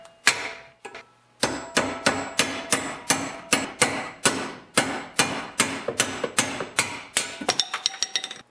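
A bolt is hammered to drive a seized snowblower impeller off its shaft, about twenty sharp metallic blows in a steady, fairly quick rhythm after a couple of initial taps, loud and close.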